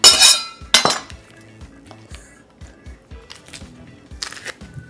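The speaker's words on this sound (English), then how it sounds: "my handy dandy garlic press" A handheld garlic press crushes garlic cloves in a home kitchen, giving sharp close metallic clinks and clacks, a couple of louder knocks at the start, then lighter scattered taps and squeezes, with no talking.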